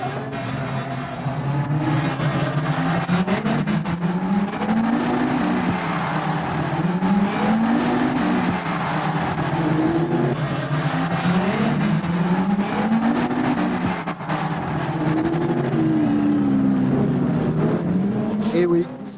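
Rallycross race cars at Lohéac in 1991 roar and rev repeatedly, engines rising and falling through gear changes across a continuous stretch of racing, with commentary running over them.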